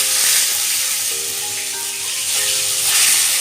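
Chicken pieces sizzle and crackle in hot refined oil, a dense, bright frying hiss that stays loud and steady for a few seconds with no talking.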